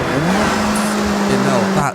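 Volvo 242 with a 2.1-litre four-cylinder engine downshifting in Forza Horizon, producing a loud, steady engine drone that climbs in pitch as the revs rise before cutting off abruptly at the end.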